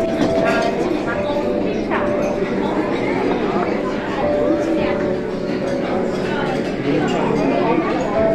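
A train passes at close range with a steady loud rumble and some clinking of rail cars, while a family on a Sunday outing in Canada chats over it.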